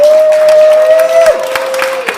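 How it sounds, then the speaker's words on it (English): Stand-up comedy audience applauding the comedian's mother: scattered claps and crowd noise under a steady, sustained whistle-like tone that holds throughout, then bends and drops near the middle. "If you want to give her a round of applause."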